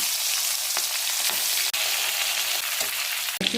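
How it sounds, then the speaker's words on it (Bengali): Prawns coated in salt and turmeric fry in oil with a loud, bright continuous sizzle up close, broken by a couple of sharp crackles and brief dips as the pieces settle. "নুন হলুদ মাখানো চিংড়ি মাছগুলো ভেজে নেব।"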